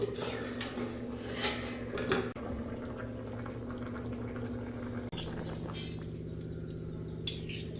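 Vegetables cooking in an iron kadhai, with metal utensil scrapes and clinks against the pan over a low steady bubbling simmer, close by.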